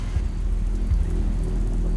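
Steady rain patters on a surface, a dense, even wash of drops with a low rumble underneath, continuous and fairly close.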